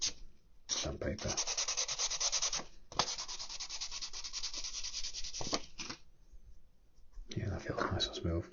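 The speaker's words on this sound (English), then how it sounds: "Finish off with a little bit of 800 sandpaper." Fine 800 grit sandpaper rubbing over a model Yamato battleship hull, a steady close scratchy sanding in long strokes with a brief pause before a final burst.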